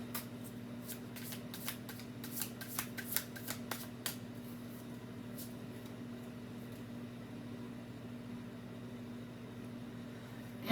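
A deck of tarot cards being shuffled: a run of crisp, papery riffling bursts through the first few seconds, close and fairly quiet, over a constant low electrical hum that continues alone afterward.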